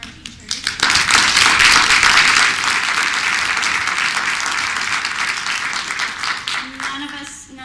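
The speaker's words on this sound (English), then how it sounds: "let's give a round of applause to all of our teachers" Sustained applause from a graduation-ceremony audience honoring teachers, a dense wash of many hands clapping that swells quickly and holds steady for several seconds before tapering off.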